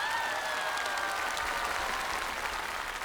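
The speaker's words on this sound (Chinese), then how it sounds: "我们把掌声送给杨宗纬、高睿。" Steady, dense applause from a studio audience on a televised singing show, cheering duet singers Yang Zongwei and Gao Rui; the clapping is close, loud and even throughout, with no talking over it.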